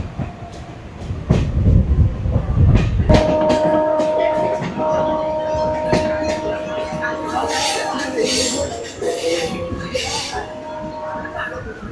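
A Bengal local train on the Bandel–Naihati line rumbles along the tracks near Garifa station, with steady wheel clatter, squealing tones from the rails on a curve and sharp metallic clanks; loud and close.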